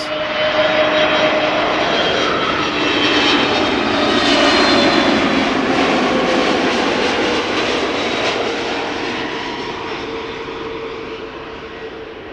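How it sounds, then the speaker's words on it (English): An SAS Airbus A320neo jet inbound from Stockholm to Amsterdam Schiphol roars past, the engine noise swelling to a peak mid-pass and then fading gradually; no speech is present. "SAS A320 Neo arriving from Stockholm"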